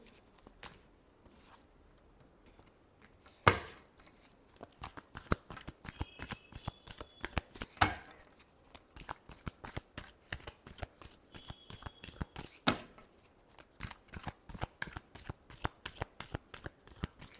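Tarot cards are shuffled by hand over and over in quick riffling bursts with a few sharper snaps along the way. The sound is close but soft and continues alone through a love reading.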